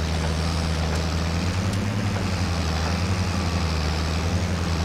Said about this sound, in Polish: Dobrze, że wziąłem ten ciągnik, bo tamten by sobie nie dał rady.